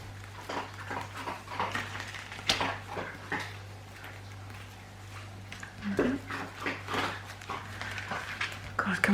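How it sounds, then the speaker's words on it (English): A dog barks in short irregular bursts against a steady mains hum and the clatter of craft work, near and fairly loud, the outbursts scattered through the scene. "God, can one dog make any more noise if it tried?"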